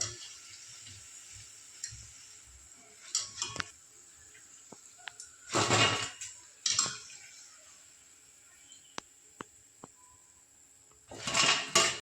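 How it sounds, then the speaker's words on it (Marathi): Fried vada fritters for vada pav are lifted out of hot oil onto a plate, with scattered metal clinks and taps and two short bursts of sizzling, quiet between. "वडे भाजलेले आहेत मस्तपैकी तळून आता काढून घेऊ ताटात"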